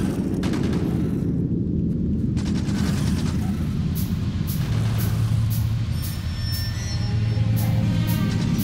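Factorio gun turrets firing on waves of attacking biters, a dense, continuous crackle of rapid shots layered over a steady low rumble of game noise, loud and unbroken throughout.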